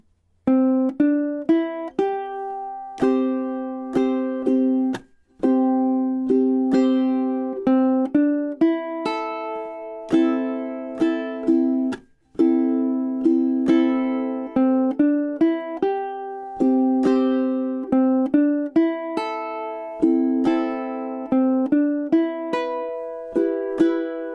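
A ukulele plays a verse alone, mixing picked single notes with strummed chords in a steady rhythm, clear and close.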